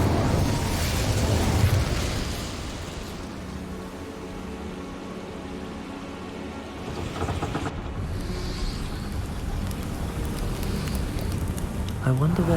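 An Incendio fire spell cast in the video game Hogwarts Legacy: a loud whooshing burst of flame up front, then a softer crackling, rain-like roar that lingers and rises again, with game ambience underneath.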